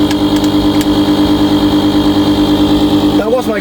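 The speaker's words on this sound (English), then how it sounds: "It's Hankei 6 horsepower, 2-stroke, very light." Hangkai 6 horsepower two-stroke outboard boat engine running steadily up close, a loud constant buzzing drone with a faint pulsing rhythm; someone speaks briefly over it at the very end.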